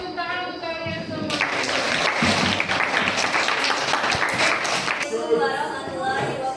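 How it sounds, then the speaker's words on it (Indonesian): Audience applause at a teacher-training presentation in Indonesia, a dense burst of clapping running about four seconds between stretches of a speaking voice before and after. "Beri tepuk tangan untuk kalian semua."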